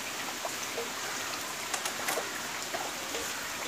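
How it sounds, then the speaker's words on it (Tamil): Steady heavy rain hisses across a wide band, with scattered drips and splashes standing out now and then, continuous and fairly close. "ஏன்னா செம மழை பெய்யுது."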